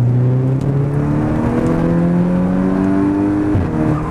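A tuned Volkswagen Golf R engine pulls hard through the revs, loud and close, its tone rising steadily through one gear before a quick shift and renewed climb.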